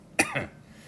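A single sharp cough, close and abrupt, followed by a softer second burst, then quiet.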